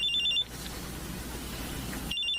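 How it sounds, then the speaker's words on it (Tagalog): A cellphone rings with an incoming call, a steady electronic ringing tone heard near and clear in two short bursts at the start and end, separated by a low background hum. "May tumatawag sa cellphone ko."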